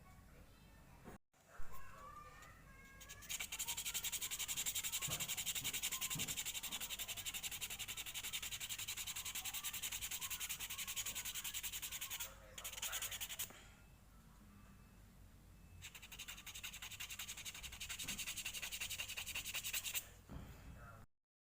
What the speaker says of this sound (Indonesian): kita lanjut ke amplas ya